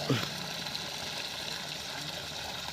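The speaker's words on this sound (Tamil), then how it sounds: "நல்ல ப்ரெஷர் வந்துட்டுருக்கு ஒரு ஒன்றரை அடி தள்ளி ஊற்றிட்டுருக்கு தண்ணி" A 900W solar-powered BLDC motor pump pushes water out of a 2-inch pipe in a continuous gush, a steady, dense rushing noise that stays even from start to finish.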